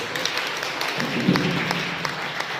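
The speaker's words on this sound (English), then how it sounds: "I would have a big applause for today's Mahatma Gandhi and Kasturba Gandhi." Audience applause at a Mahatma Gandhi death anniversary gathering, scattered clapping from a modest group with a few sharper claps, steady across the whole moment.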